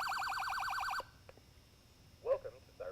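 A Whelen Broadcaster digital voice message recorder sounds a loud warbling electronic alert tone that pulses rapidly, then cuts off abruptly, followed by faint clicks and brief fragments of a voice.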